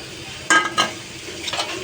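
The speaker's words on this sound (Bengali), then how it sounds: "আমি এখন শুটকিটা দিয়ে দিচ্ছি।" Dried fish (shutki) dropped into a frying pan with salt and a little turmeric, giving a few sharp bursts of sizzle and spatula scraping over a low steady frying hiss, with no talk.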